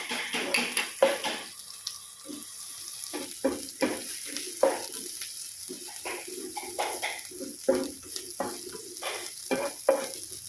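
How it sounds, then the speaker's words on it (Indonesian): Shallots sautéing in oil in a pan, a steady close sizzle broken by repeated scraping and clinking stir strokes of a utensil against the pan, with no talk. "Ini kita tumis bawang merahnya sampai dia kuning keemasan"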